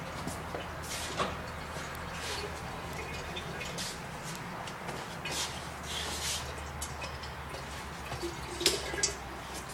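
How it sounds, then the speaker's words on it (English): Engine oil drains out of a truck in a continuous, faint trickle with scattered drips and small splashes, and a low hum lies underneath. "you let all the oil drain out."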